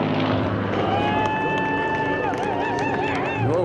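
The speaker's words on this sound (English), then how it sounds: "the SBach 342 Thunderbolt. This airplane can roll at 450 degrees around its center axis." An SBach 342 Thunderbolt aerobatic airplane flies at an air show, its engine a steady, loud droning roar with a sustained whining tone that bends in pitch as it passes, constant in level throughout.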